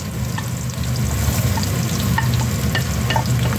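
Garlic and ginger sauté in a hot pan, a loud, steady frying sizzle with occasional stirring clicks and scrapes, heard alone with no talking.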